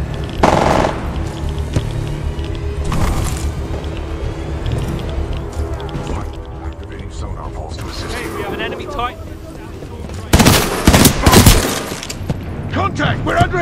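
Gunfire in the video game Titanfall 2 in futuristic sci-fi combat, with repeated automatic bursts and heavy booms spread through the scene, loudest near the end, mixed with in-game voices and music.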